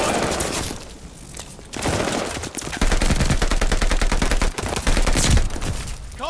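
Rapid automatic gunfire in a multiplayer shooter match, dense bursts of shots with brief gaps, loud and close, mixed with game effects and faint voices.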